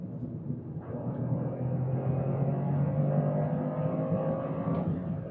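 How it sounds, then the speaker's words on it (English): A 2024 Toyota GR Corolla with all-wheel drive accelerates hard, its engine and exhaust rising in a loud, close rumble while a thin transmission whine climbs over the top. "A bit of whine from the transmission gives you that rally car vibe."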